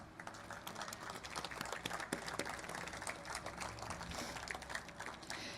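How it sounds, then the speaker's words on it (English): A crowd applauds at the Motorsports Walk of Fame induction ceremony in Long Beach, a continuous crackle of clapping hands carried steadily through the whole stretch at moderate level. "So let's give them a round of applause."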